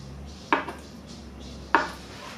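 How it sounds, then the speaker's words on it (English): Two sharp knife taps against a chopping board while cutting yogurt and green tea jelly into cubes, spaced about a second apart, in an otherwise quiet room. "and cut it into cubes"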